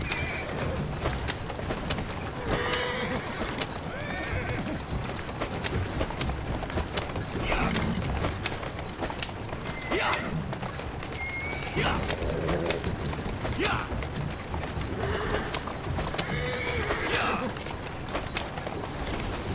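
A horse-drawn carriage rolls through Victorian London in Assassin's Creed Syndicate, hooves clattering steadily and horses whinnying now and then amid street ambience, with people talking over the rumble throughout.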